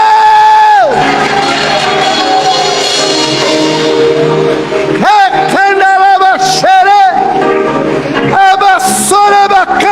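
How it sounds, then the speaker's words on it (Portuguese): A crowd at a Catholic rosary retreat cheers and whoops loudly, with sustained voices and shouting rising over music and singing throughout. "aplaude esse Deus!"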